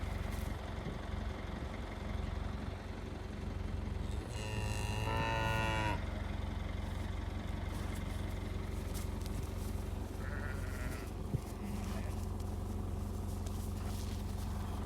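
Two young calves arriving on a new pasture, bleating calls rising clearly for about two seconds near the middle, with fainter calls later over steady outdoor background noise.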